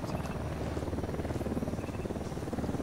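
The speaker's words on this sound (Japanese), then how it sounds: "ヘリが来るぞ来た来た来た" Helicopter approaching in the video game Ghost Recon Wildlands, a steady, dense low rotor drone with fast rhythmic chopping, held at constant loudness throughout with no talk over it.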